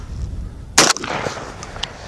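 A Mossberg 930 JM Pro semi-automatic shotgun fires a single shot of light loads, one loud, sharp blast cracking out mid-clip and decaying quickly into faint background noise.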